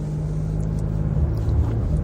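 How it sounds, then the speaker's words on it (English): A steady low engine and road rumble from inside a moving car, constant and close, with no talking. "I'm driving as usual"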